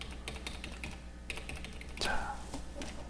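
Keys are pressed on a computer keyboard while working in SketchUp, soft clicks scattered across the stretch, with a brief louder burst of other sound partway through.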